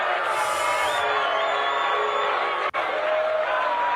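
A crowd at a libertarian national convention cheers and whoops together in a loud, continuous roar, with a brief cut partway through.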